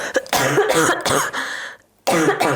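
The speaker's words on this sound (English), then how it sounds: "She's just having a coughing spasm." A person coughs repeatedly in harsh bursts, a brief pause, then another burst of coughing close by.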